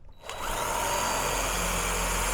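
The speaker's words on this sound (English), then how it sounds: "Now let me drill a hole." Power drill boring a hole while a roll-up garage door brush seal kit is fitted, a steady loud whine rising after a brief start and running continuously, close by.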